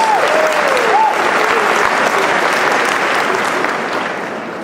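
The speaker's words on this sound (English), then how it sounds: "Give yourselves a round of applause." Loud, dense applause from a large hall of attendees at the 2014 APPNA convention, thick rolling clapping with faint voices and a cheer near the start, tapering off gradually at the end.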